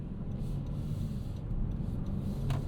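A 2026 Honda Odyssey minivan with a 3.5L VTEC engine pulls away on a morning commute, its low, steady engine drone rising slightly under gentle throttle, heard from inside the cabin with a constant road rumble.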